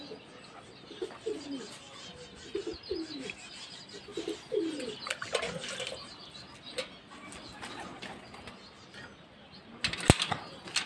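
Pigeons coo repeatedly after drinking water, low throaty calls scattered across the clip alongside occasional chirps, brief wing flutters and clicks, with a sharp knock near the end.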